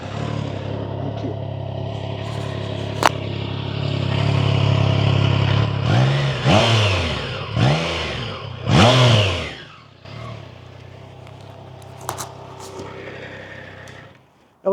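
A Triumph motorcycle engine idles, then revs sharply in several rising and falling bursts during acceleration before settling back to a low idle, loud and close.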